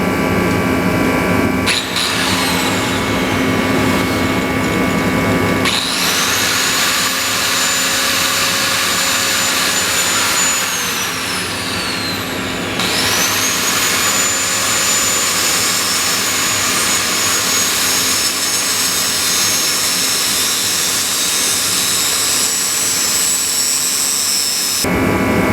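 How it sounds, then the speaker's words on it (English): An angle grinder trimming rusty lines during a Cummins engine swap, a loud steady high whine running throughout, with the pitch sagging and recovering as the disc loads up in the cut. "So I'm gonna get out the angle grinder, trim these up"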